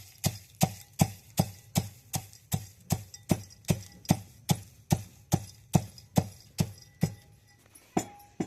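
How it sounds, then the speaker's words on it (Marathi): Peanuts pounded for an eggplant curry, with about twenty steady, evenly spaced thuds repeating close by, about two per second, and no talk over them. "झाले शेंगदाणे कुटायचे"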